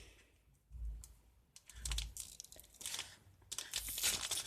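A Dragon Ball Super card game booster pack is torn open close up, with quiet crinkling foil and short tearing bursts that grow louder toward the end.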